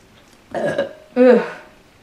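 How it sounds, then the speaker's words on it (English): Two loud, close burps follow each other after a brief pause, the second deeper and more drawn out. "sorry, I have to burp"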